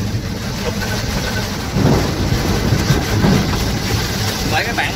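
Heavy rain drums steadily on a vehicle driving along a road in a storm, a constant dense wash with a low engine rumble beneath and a couple of heavier surges midway.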